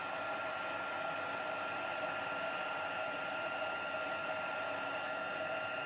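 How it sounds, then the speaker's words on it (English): A heat embossing tool blows hot air steadily while making a birthday card, producing an even, continuous, hair-dryer-like whoosh up close with no voices. "So I've got my heat tool. I'm just gonna heat that up until it melts and it goes nice and shiny."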